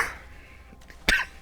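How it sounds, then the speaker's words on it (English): A single sharp cough stands out near the end of a quiet moment, preceded by a fainter throaty sound. "Goddamn cough."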